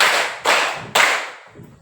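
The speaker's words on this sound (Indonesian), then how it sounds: "Tepuk 1, tepuk 2, tepuk 3" Rhythmic hand clapping during a classroom warm-up: three sharp, loud claps evenly spaced about half a second apart, each decaying quickly, with no voices.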